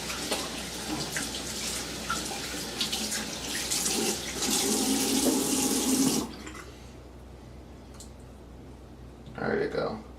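Hands being rinsed under a running bathroom tap during a wet shave, with steady close splashing water for about six seconds before it stops and leaves only quiet room tone and a brief soft sound near the end.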